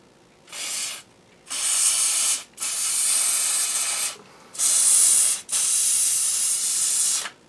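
Contact cleaner hisses from an aerosol can in five loud, close bursts, the first short and the rest lasting over a second each, separated by brief silences.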